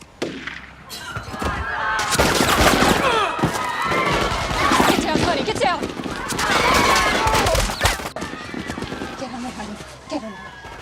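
Rapid bursts of gunfire and crashing impacts from an action-film shootout, loud and dense across most of the clip, mixed with shouting and a dramatic score.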